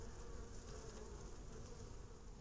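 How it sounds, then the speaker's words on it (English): A dense, steady hum of many honeybees buzzing together inside a hive, a close, continuous drone of insect activity. "Those two bees fighting. And you just hear the activity going on inside."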